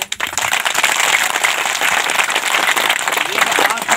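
Audience clapping hands together at a talk, a dense, loud, continuous patter of applause filling the whole stretch with no pauses.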